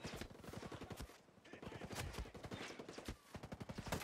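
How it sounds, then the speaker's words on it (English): Rapid bursts of automatic gunfire in the tactical shooter Ghost Recon Breakpoint crackle in dense, repeated volleys throughout, loud and close, with brief pauses between strings of shots. "Who the fuck is shooting me?"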